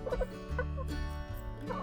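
Backyard chickens cluck and gabble close by in a busy, overlapping flurry of short calls, with no talking.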